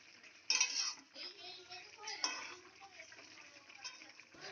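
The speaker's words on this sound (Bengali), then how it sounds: "এরপরে এই মাছগুলোকে একটু হালকা হাতে উল্টে পাল্টে দিচ্ছি" Hilsa fish pieces are turned gently in a frying pan with a utensil, giving a few quiet metallic clinks and scrapes, with a voice speaking in between.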